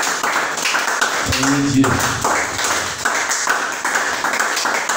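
A church congregation claps in acclaim for Jesus, a rhythmic run of hand claps filling the room while a voice speaks briefly over it.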